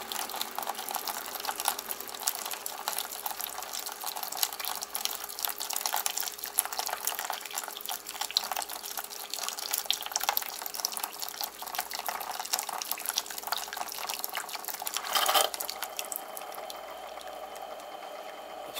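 Tap water runs steadily into a container, a continuous close hiss and trickle that holds level for most of the stretch, swells briefly near the end and then cuts off.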